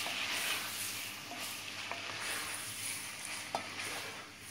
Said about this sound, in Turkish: Arkadaşlar yağım iyice kızdı. Şimdi eriştelerimi atıyorum içine. Şöyle bir karıştıracağım.